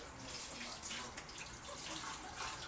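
Water runs steadily from a kitchen tap to rinse something while cooking pot roast gravy, a soft continuous splashing hiss at moderate level with no talk.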